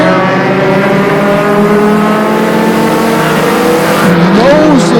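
Mini stock race cars running nose to tail at Flamboro Speedway, a loud continuous engine drone with sustained whining tones and a rising-and-falling pitch sweep near the end, with a commentator talking over it.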